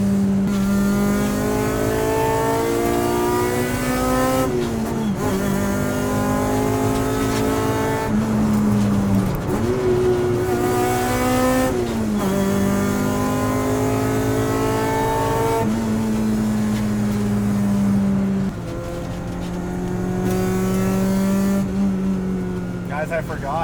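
A K20-engined Honda Integra pulls hard on a mountain road, its engine note climbing through the revs in repeated rising sweeps between gear changes, loud and close, with a voice talking over it at times.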